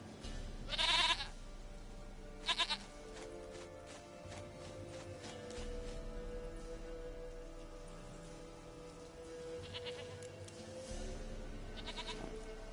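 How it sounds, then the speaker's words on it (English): In The Witcher game, a goat gives a couple of short, bright bleats early on. The bleats sit over a faint, steady hiss like rain. A few softer calls follow later. "Goat of mine, dearest, sweetest goat."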